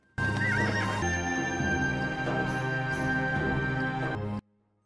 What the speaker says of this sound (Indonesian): Yan pergi dengan menunggang kuda.